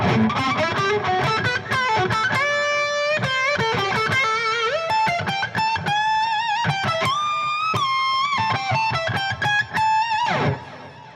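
Distorted electric guitar playing a melodic line, notes trailing off with echoing repeats and a spacious wash behind them.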